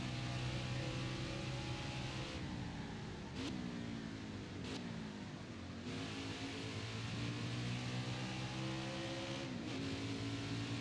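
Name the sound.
NASCAR race car engines in NASCAR Heat 5 video game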